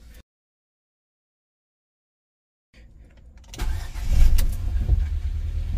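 A car with a newly replaced Motolite battery sits silent, then cranks and catches, its engine firing up loudly close by and settling into a rough idle.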